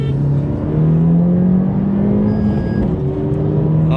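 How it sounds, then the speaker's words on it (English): A 10th gen Honda Civic races a Cobalt SS Turbo, a steady loud engine drone climbing in pitch through the gears as the cars accelerate hard, with continuous whirring road noise and no talking. "Here is a video of my car when it was stock versus Sergio's Cobalt SS Turbo"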